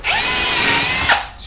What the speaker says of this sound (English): And we're going to drill